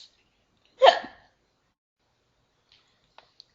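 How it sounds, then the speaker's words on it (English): A person in a hallway gives one sharp, loud hiccup, then a long near-silent stretch with a few tiny clicks. "You have the hiccups, don't you?"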